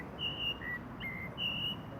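A blackbird sings close by, a few clear whistled phrases with brief pauses between them, heard alone over quiet outdoor ambience.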